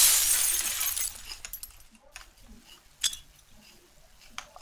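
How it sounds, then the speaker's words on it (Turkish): A glass window shatters in the online battle royale game PUBG, a bright burst of breaking glass at the start that trails off into scattered tinkling shards, followed by faint clinks. "Lan kır şu camı!"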